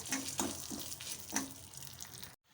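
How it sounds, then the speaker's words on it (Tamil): Lentils roasting in a pan, with a faint, continuous dry crackle and a few clinking stirs of a spoon before the sound cuts off abruptly. "இந்த பருப்பு எல்லாமே நல்லா வறுபட்டு ரெடியாகட்டும்"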